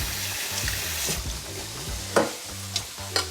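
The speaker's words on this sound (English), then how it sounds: "Just let those run under the cold water just for a few minutes." Cold tap water running steadily over cooked noodles in a colander, a continuous rushing hiss with a few soft clinks and splashes as the noodles are moved around.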